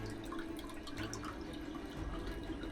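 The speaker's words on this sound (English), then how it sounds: "I can hear the bilge pump's bloody going" A boat's bilge pump runs below deck, pumping out water from a leaking freshwater tank, heard as a steady close watery splashing and trickling with faint dripping over a constant low hum.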